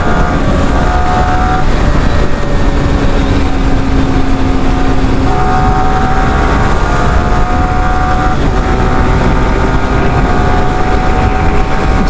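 A loud Yamaha R15 V4 motorcycle engine roars close up for several seconds, its pitch climbing and dropping as the throttle is pushed to high revs.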